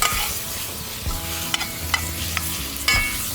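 Meat frying in a pan over an outdoor campfire, a loud steady sizzle with occasional clinks and scrapes of a utensil, heard up close with no speech.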